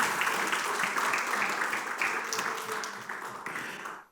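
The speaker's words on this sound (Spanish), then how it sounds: "Denle un aplauso a Dios por eso" Congregation in a church claps in praise, a dense wash of applause that holds steady and tapers off toward the end, fairly distant and soft.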